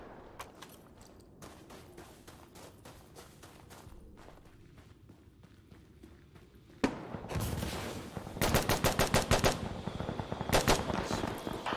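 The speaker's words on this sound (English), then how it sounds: "at least I heard the shots" Video game gunfire: quiet, sparse ambience gives way to a sudden loud burst of rapid automatic shots and repeated volleys, close and dense through the second half, with no talking.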